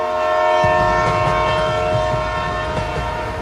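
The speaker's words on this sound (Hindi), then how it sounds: "तभी ट्रेन का हॉर्न सुनाई दिया" A train horn sounds at a station, a sustained tonal blare held steadily over rumbling rail noise for several seconds, loud and fairly close.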